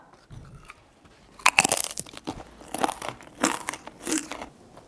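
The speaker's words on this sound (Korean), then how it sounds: "바삭바삭하면서 이 속에 있는 콩이 꼬독꼬독 씹히는 그런 식감을 가지고 있는" Crunchy cheese-seasoned fried tempeh snack made from fermented soybeans being bitten and chewed up close, a string of loud crisp crunches repeating in quick irregular bursts with no talking.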